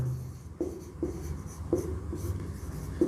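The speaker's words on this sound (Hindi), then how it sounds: "यहाँ लिखेंगे" Chalk or marker writing on a board during a Class 12 maths lesson on maxima and minima, with a series of scratchy taps and strokes in an uneven rhythm, fairly close and quiet, without any talk.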